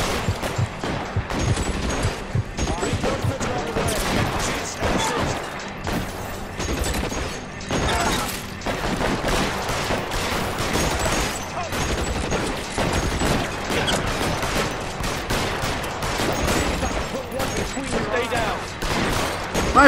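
Gunfire in the video game LA Noire rattles almost without pause as dense volleys of shots, while someone talks over the shooting.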